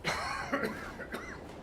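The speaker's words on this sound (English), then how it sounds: "Can't you do anything to strangle this cough" A short fit of rough, raspy coughing close by, several hacks in quick succession, from the video game Hitman 2.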